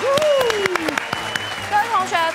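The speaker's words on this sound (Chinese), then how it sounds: "掌声鼓励！" Applause from a group at the end of a hip hop dance class on an exercise show, a steady clatter of clapping under a host's voice and bright musical tones.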